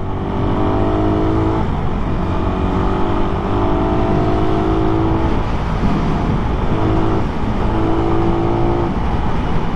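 Car cruising fast on a road in hot traffic-free conditions, a loud steady engine drone and tire rumble heard from inside, with slight shifts in pitch as speed changes.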